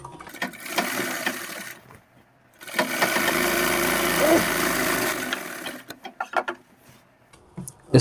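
A sewing machine stitches underwear fabric in one sustained whirring run of about two and a half seconds, with shorter bursts of machine noise and handling sounds before and after.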